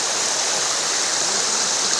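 A man-made waterfall built from concrete and steel rods, a dense, steady hiss of falling water heard close and loud without a break, with no voices.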